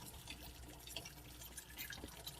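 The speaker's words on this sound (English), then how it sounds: "I'm going to pour the hot water slowly down here." Hot water poured slowly into a pan that already holds cold water, as part of making shepherd's pie, gives a faint, steady liquid trickle with no talking.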